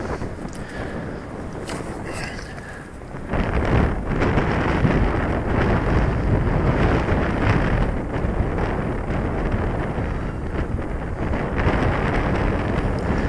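Strong wind roars over a slope where an RC glider is flown, a loud steady rushing buffet that jumps in intensity partway through and holds, close to the microphone.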